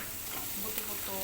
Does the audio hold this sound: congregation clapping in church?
no